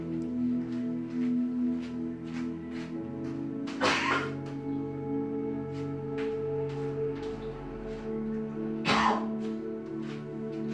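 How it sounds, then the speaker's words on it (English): Two short, dry coughs break a quiet stretch several seconds apart, each a brief harsh burst over a low hum. "Just have a little dry cough there trying to take over"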